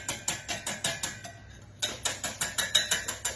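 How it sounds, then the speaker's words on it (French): A whisk beats egg yolks in a bowl with rapid, regular scraping strokes, about four per second, pausing briefly midway before resuming at the same brisk rhythm. "Donc, on va bien mélanger les jaunes d'œufs. Donc, on va les fouetter."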